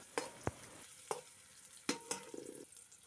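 Chopped shallots go into hot coconut oil with cumin seeds, giving a soft, quiet sizzle punctuated by a few sharp scraping stirs and clicks of a spoon against the pan.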